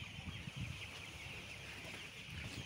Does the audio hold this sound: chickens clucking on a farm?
yes